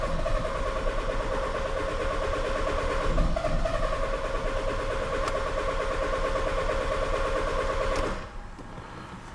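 A 2014 Audi A3 diesel engine cranking over and trying to start: a steady, rapid starter-motor churn lasting about eight seconds, close and continuous, then cutting off and dropping to near quiet.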